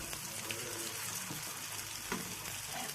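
A vegetable cutlet fries in hot oil, giving a steady, dense sizzle that crackles evenly throughout with no one talking.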